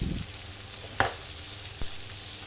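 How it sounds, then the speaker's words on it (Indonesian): Soft, constant sizzle of steak searing in a pan, cooked well done, broken by two sharp clicks of a utensil. "Dipanggang aja sampai tingkat kematangan dagingnya ini sesuai dengan selera kita"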